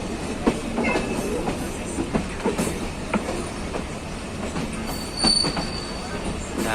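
A train moves through Dhaka railway station in Bangladesh, its wheels clattering in a steady clickety-clack with brief metallic squeals, close and fairly loud.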